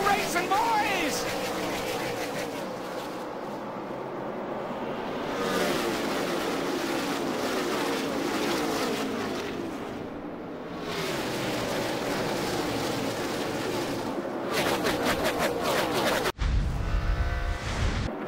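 NASCAR stock cars race at Texas, a dense roaring rush of engines swelling and fading as packs of cars sweep past, under an excited commentator's voice throughout.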